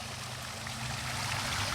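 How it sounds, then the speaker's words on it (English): Water trickles steadily in a garden along a trail in Battle Creek, a soft continuous wash with a low hum beneath it and no talk. "I love the sound of water"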